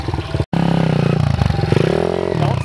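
A pit bike's small single-cylinder engine runs loud and close, chugging and revving unevenly after a brief cutout at the start, with no talking.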